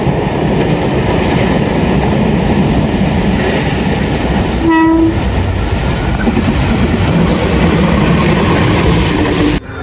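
A train passes close beside railway tracks next to rice paddies near Purwokerto, a loud continuous roar of wheels and rumble throughout, with a brief squeal in the middle and clattering rail noise.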